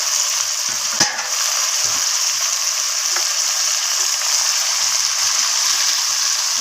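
Mutton and potato curry gravy is stirred in a pan, with a continuous sizzle and bubbling and a few scraping knocks of the spoon, close up and with no talking.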